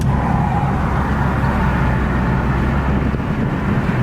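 Steady engine and exhaust drone from an Infiniti Q60 fitted with AMS full downpipes, a continuous loud cabin rumble with wind noise and no talking.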